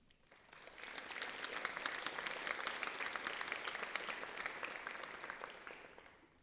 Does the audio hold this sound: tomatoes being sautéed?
no